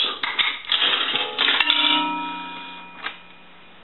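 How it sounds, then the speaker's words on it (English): A quarter drops through the coin slot of a three-slot payphone with a short metallic clatter, then a single gong strikes and its tone rings out and fades, heard close and loud. "we're going to go ahead and put a quarter in, and the quarter is going to gong once"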